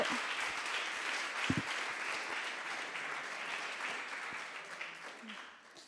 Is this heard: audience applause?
yes